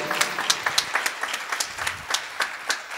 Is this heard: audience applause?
yes